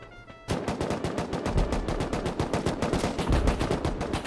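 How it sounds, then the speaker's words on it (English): Automatic turrets in Rust open fire in a fast, steady stream of loud, close shots after a brief quieter moment, keeping up an unbroken machine-gun rhythm to the end. "Yeah, the turrets are killing him."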